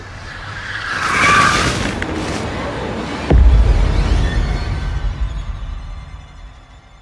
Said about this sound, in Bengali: সৌগত, ওদিকে দেখো, গাড়িটা থামাও